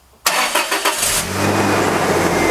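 A car engine cranks briefly and catches right after a new Exide Edge AGM battery install, then settles into a steady close idle.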